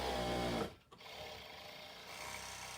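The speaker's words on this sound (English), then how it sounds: "So I'm just going to stitch down the back." Sewing machine stitching a line down the back of fabric, the presser foot lowered: a steady mechanical whir runs continuously, briefly dropping out for a moment before resuming at an even pace, close and fairly loud.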